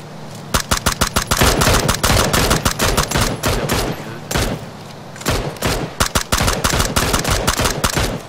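Sustained machine gun fire in PUBG during rainy weather, rapid loud bursts of automatic shots with a brief pause midway, then more fast volleys continuing to the end.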